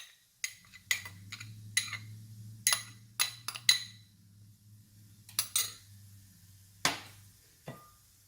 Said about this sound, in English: And give a good stir.